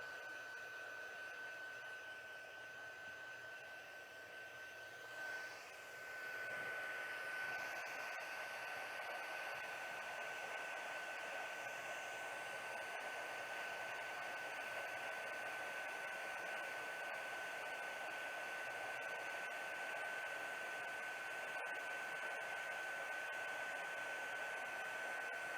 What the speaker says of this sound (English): but I'm going to run over it with my heat tool.